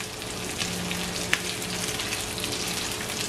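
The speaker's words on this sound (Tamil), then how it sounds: "இப்போ ஒரு 2 நிமிஷமாக இதில் இருந்து பொரிஞ்சோன்ருக்கு" Curry leaves frying in hot oil for fire-roasted brinjal sambal, a steady, close sizzle with crackling pops and one sharp spit, heard alone.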